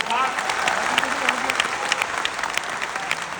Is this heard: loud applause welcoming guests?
yes